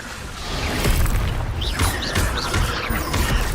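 Casting Expelliarmus in Hogwarts Legacy gives a loud magical burst with crackling, whooshing energy and a few chirping sparkle accents, layered over steady game background noise.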